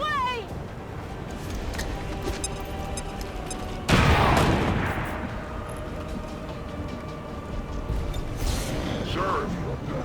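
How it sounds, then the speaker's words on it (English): In XCOM 2, a bomb drop sets off one loud, sudden blast partway through that rumbles and slowly fades, with a second softer burst near the end and a voice talking over the game sounds. "Bombs away!"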